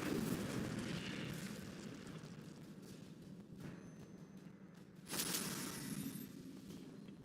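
A magical fire spell in Hogwarts Legacy erupts with a rushing, crackling roar that fades back, then a fresh, sharper flare bursts up before settling into a softer burning hiss, all fairly faint.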